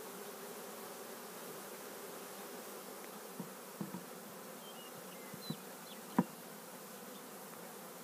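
Honeybees from a newly installed package swarm around an open hive, giving a steady, dense buzz throughout with a few sharp knocks and clicks of handling near the end.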